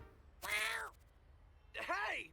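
Two separate cat meows from the video game YIIK, each a clear, bright, falling cry lasting about half a second, split by a short quiet gap.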